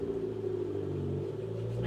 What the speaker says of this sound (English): Neighbors are loud. They have a loud car.